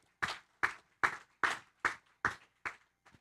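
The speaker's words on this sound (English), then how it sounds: "Please give a round of applause to Mr. Hitoshi Kikawata." An audience at the Taiwan International Ocean Forum claps in unison, about eight evenly spaced, sharp claps with short gaps between them.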